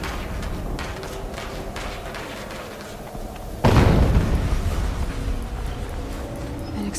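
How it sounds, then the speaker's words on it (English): An explosion in Horizon Zero Dawn hits suddenly after a few seconds of quiet ambience, a loud deep boom whose rumble fades slowly over the remaining seconds. "An explosion."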